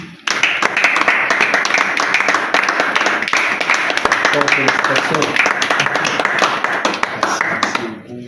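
Dense, continuous clapping from an audience at an award ceremony for communicators fills the stretch, loud and close, with voices speaking over it before it stops abruptly near the end.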